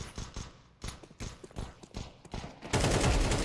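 Counter-Strike 2 gunfire on the Mirage map: a run of sharp, separate shots, then a louder continuous burst near the end, with brief game sounds between them and no talking.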